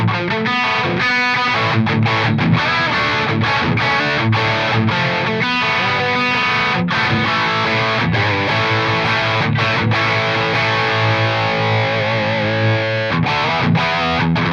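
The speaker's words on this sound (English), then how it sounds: "I'll even just chuck on the big distortion channel just now and you'll hear exactly what's going on with it" Epiphone ES-355 electric guitar played through a heavy distortion channel, a loud, thick, sustained overdriven tone with strummed chords and riffs ringing continuously for about fifteen seconds.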